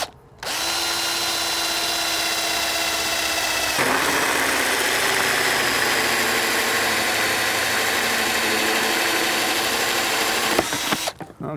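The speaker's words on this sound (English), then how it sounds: "we're going to use a hole saw and just start by drilling the hole." A hole saw bores through a plastic soda bottle, a steady powered whine running loud and close for about ten seconds with a shift in tone partway as the cutter bites deeper, then stopping.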